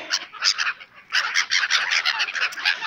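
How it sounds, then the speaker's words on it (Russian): Loud, dense honking and cackling from a flock of geese close by in England, in busy overlapping bursts with a brief lull partway through. "А вот наши гуси, видите, не все улетели."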